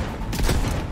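Grenade blast in Cyberpunk 2077 gameplay, a single short burst of explosive noise rising and fading within a second, fairly loud and heard alone.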